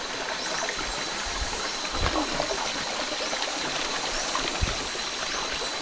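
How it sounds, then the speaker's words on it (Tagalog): Water flows outdoors on an adventure outing in Dingalan, a steady broadband stream rushing continuously at close range, with occasional soft knocks and splashes over the running flow. "Ano, tubig. Ay,"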